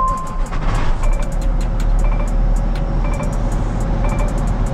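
A truck engine turning over slowly and then running with a steady low rumble, loud and close, with faint repeated beeps and other traffic around it.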